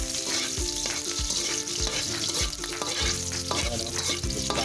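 Garlic sautéing in hot cooking oil in a Filipino home kitchen, a steady loud sizzle with repeated stirring scrapes and clacks of a utensil against the pan, no voices.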